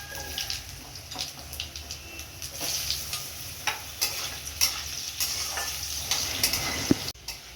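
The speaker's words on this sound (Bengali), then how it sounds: "এবার দিয়ে দেবো আলুটা" Potato pieces fry in oil seasoned with panch phoron and bay leaf, a soft steady sizzle broken by scraping stirs of a spoon against the pan, close and fairly quiet.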